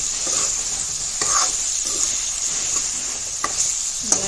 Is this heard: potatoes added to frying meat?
yes